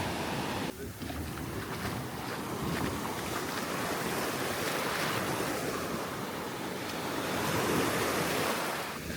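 Waves break and wash onto a beach in Martinique, a steady loud roar of surf with wind buffeting the microphone and a swell building near the end.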